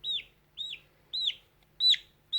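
A young chick held in a hand peeps loudly and close, five sharp, high, downward-sweeping chirps spaced about half a second apart over faint background quiet.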